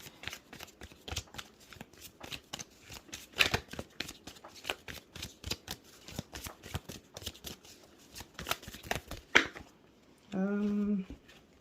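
Rapid riffling and snapping of a deck of tarot cards being shuffled repeatedly, close up, ending with a brief electronic beep-like tone.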